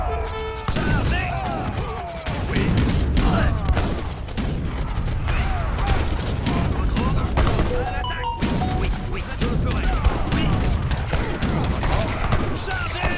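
Musketeer gunfire in an Age of Empires 3 battle, dense continuous volleys of crackling shots and thuds, loud and sustained, with a voice talking over it.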